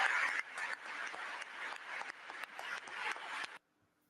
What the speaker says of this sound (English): is the clapping almost like a laugh track?